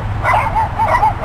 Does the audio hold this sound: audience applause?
no